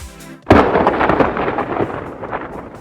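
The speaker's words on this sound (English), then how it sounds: "Obviously you're gonna have to add some sound, like thunder, lightning" A sharp thunderclap bursts out after a brief quiet lead-in, then rolls into a long rumbling, crackling decay, loud and close, used as a storm effect in a Counter-Strike 2 map.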